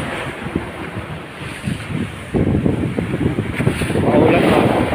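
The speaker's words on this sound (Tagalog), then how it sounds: "Maulan dito, maalon ngayon." Rough sea at Bindoy, Negros Oriental in rainy weather, a loud rushing wash of waves with heavy wind buffeting the microphone, swelling louder toward the end.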